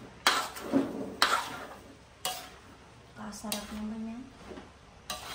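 Pansit canton noodles being stirred and tossed in a pan, with several scraping strokes and a soft sizzle underneath, while a voice speaks briefly over the cooking.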